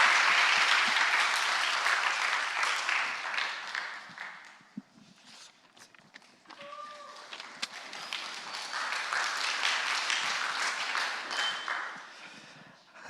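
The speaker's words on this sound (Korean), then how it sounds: "박수 부탁드립니다." Applause from a church congregation at an afternoon youth service, steady and fairly loud at first, easing off midway with a few scattered claps before swelling again into a sustained round.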